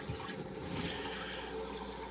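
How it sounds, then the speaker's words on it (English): Running water rinses a whole pineapple under a tap in a steady, unbroken rush that holds close and even for the whole two seconds, with no voices. "I'm going to rinse this off."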